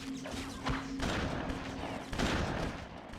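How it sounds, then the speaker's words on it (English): Enemy gunfire in the video game BloodRayne, sustained bursts of shots with several sharper hits, loud and close, continuing through the clip with no one talking over it. "He's still shooting."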